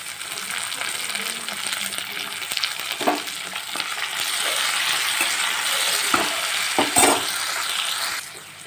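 Mixed vegetables sauté in a pan for a curry to serve with puris, a steady close sizzle broken by several clinks and scrapes of a spoon stirring against the pan.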